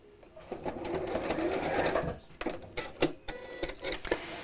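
Sewing machine running steadily as it stitches a fabric pocket, a dense whirring hum followed by shorter stop-start bursts, close and fairly loud with no voices.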